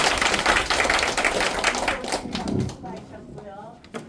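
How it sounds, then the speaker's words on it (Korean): A small audience at a Gangneung health cooperative meeting claps for a few seconds. The applause is dense and steady at first, then thins out and fades toward the end, with a voice coming in at the close. "자, 한번 박수로 가져볼까요?"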